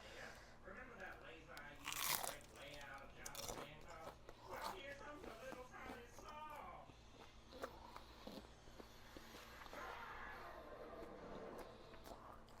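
Crab rangoon nachos crunched and chewed close to the mic in irregular bursts of crisp bites, with some speech between mouthfuls.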